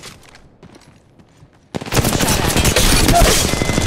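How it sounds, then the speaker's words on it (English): Automatic weapon fire in the Apex Legends Mobile battle royale game: a quiet stretch of faint game sounds, then sudden loud, dense bursts of gunfire that continue rapidly to the end. "Opening fire."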